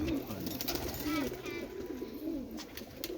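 Pigeons of fancy breeds coo repeatedly in low, rolling calls with a steady rhythm, close by, while people talk quietly in the background.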